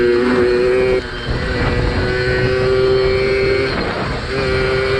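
Yamaha QT50 moped with a 60cc two-stroke engine runs nearby with a loud, buzzing drone and steady tonal whine that dips briefly and recovers, continuous throughout with no speech.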